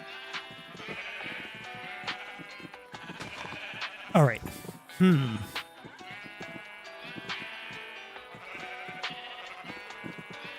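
Sheep in a video game give two loud, close bleats in quick succession, rising above steady background music, while a voice speaks briefly.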